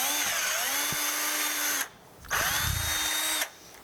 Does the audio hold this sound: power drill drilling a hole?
yes